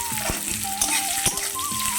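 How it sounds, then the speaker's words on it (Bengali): Chopped onion fries in hot oil in a pan after cumin and bay leaf, giving a steady close sizzle with occasional stirring scrapes and a faint tonal sound in the background. "একটা বড় সাইজের পেঁয়াজ কুচি করে দিয়ে দিলাম তো পেঁয়াজটা একটু ভাজা হয়ে যাক"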